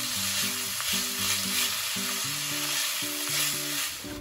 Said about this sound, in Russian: Кладу морковку к луку и тоже обжариваю.